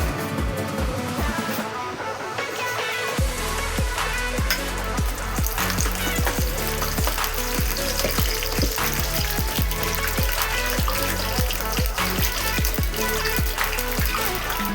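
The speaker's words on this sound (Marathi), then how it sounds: "छान असं तेल गरम करून त्याच्यामध्ये कढीपत्ता टाकला आहे." Curry leaves, cumin and mustard seeds sizzle in hot oil with a dense, steady crackle and sharp popping spatters. It is loud and close, with no talking.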